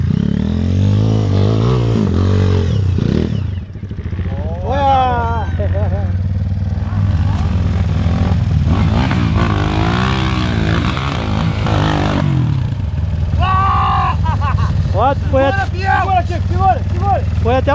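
Motorcycle engine revving repeatedly at a hill-climb challenge on seven steps, loud and close, with rising and falling whines over a low rumble and excited voices shouting throughout.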